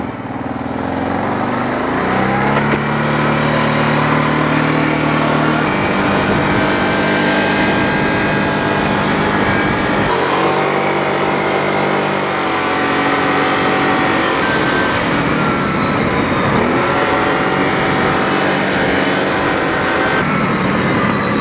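A Kawasaki motorcycle engine revs loud and close while riding, rising and falling in pitch through repeated gear changes, with no talking.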